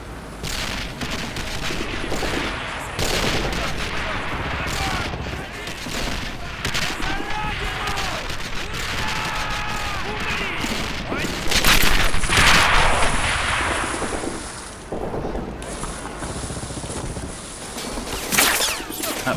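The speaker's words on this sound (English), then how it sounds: "Massive salvo, returning fire there." A massive artillery salvo and gunfire in the video game Men of War: repeated booming blasts and rattling shots in dense bursts, loud and continuous. A voice talks over the battle.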